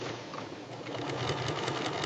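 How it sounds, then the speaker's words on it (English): A special furrier's sewing machine joins fur pieces with a dense, steady whirr of rapid stitching that holds at an even level for about two seconds. "Furriers use special sewing machines."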